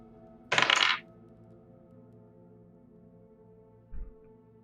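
Dice tossed onto a table during a tabletop roleplaying game session: one short bright rattle, then near silence and a soft low knock, heard close and without talk.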